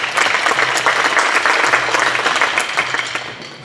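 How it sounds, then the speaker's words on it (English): A high school audience claps at an indoor drumline show, dense steady applause that fills the whole stretch and fades slightly toward the end. "I wanna give a big round of applause to our wonderful synth player"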